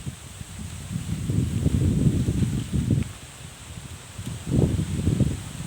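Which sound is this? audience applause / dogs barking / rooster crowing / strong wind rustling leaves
strong wind rustling leaves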